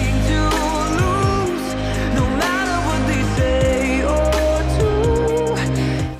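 A Bulgarian Eurovision 2017 entry plays as a steady loud pop recording: a sung lead vocal over deep bass and a rhythmic backing.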